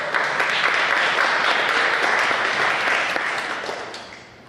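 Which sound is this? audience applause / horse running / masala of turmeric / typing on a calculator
audience applause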